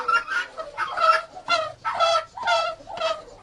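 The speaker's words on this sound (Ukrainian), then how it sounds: "Це дві молоденькі качечки." Harsh, rapid squawks and quacks come in repeated bursts, sounding like birds bickering up close, loud and agitated with short pauses between outbursts.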